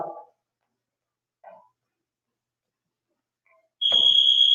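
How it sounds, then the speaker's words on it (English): Sharp electronic workout interval timer buzzer sounds once near the end, a loud steady high-pitched tone after a few faint brief noises and near silence. "Let me know if you cannot hear that buzzer"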